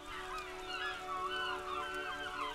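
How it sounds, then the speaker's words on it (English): Seagull calls drift through a quiet seaside scene near the ocean in the video game Disco Elysium. The thin, wavering cries overlap above a sustained low hum of game ambience, with no voices. "the seagulls are also giving away the fact that we're near the ocean"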